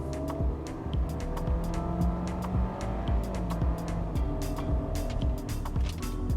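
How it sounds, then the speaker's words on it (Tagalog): A 2024 Kia Sonet's engine with a CVT hums steadily as it gains speed on a straight road, with a low drone and road noise beneath a few light clicks and ticks inside the cabin. "So there's a long straight here after this curve. Let's put on the gas."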